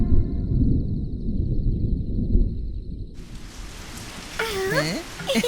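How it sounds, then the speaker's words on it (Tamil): Cartoon rain starts with a sudden hiss of falling water after a low rumbling opening, a steady wash of rain noise with a high voice speaking over it near the end. "மழையும் வந்தது."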